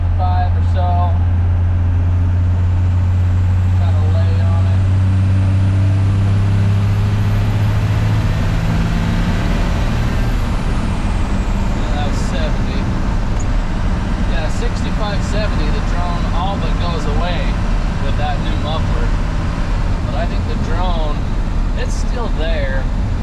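A 12-valve Cummins truck with a J-pipe exhaust drives at highway speed around 50–55 mph, its steady low drone and road noise continuous throughout while a person talks over it.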